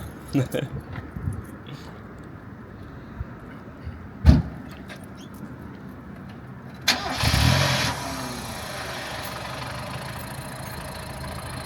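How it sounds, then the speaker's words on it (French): After a few clicks and a sharp knock, a Mazda MX-5 NA engine cranks and catches, then settles into a rough, tractor-like steady idle, with voices nearby. "elle fait vraiment on dirait que quand tu la démarres, c'est un tracteur"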